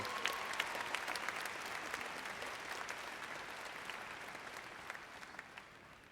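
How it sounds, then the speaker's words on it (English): Audience applause fills an Air Academy graduation ceremony as a dense, steady wash of clapping from a large crowd that slowly fades toward the end. "please give our faculty and staff a round of applause for the support and work they have done"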